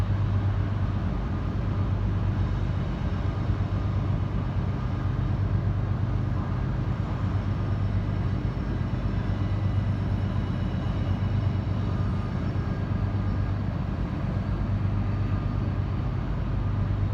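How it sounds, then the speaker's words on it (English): A train passes out of sight behind trees in West Virginia, heard as a steady, loud low rumble that holds level throughout with no voices. "See if you can spot the train."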